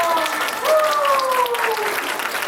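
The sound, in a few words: audience applause at concert start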